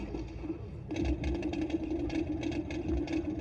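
A Hot Wheels Rhinomite RC monster truck's engine sound effect idles with a steady buzzing rumble, sputtering slightly as it runs continuously at close range without any voices.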